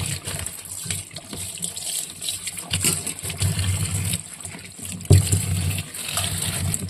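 Water splashes and gushes as taro leaves are rubbed clean by hand with a cloth, a steady close sloshing with occasional louder surges.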